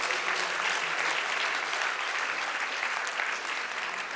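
An audience at an awards ceremony breaks into loud, steady applause, a dense wash of clapping that holds throughout without pause.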